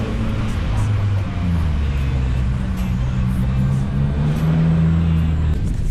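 Subaru 2015 VA WRX fitted with a TOMEI catback exhaust, a steady deep engine rumble idling nearby throughout, with faint voices in the background.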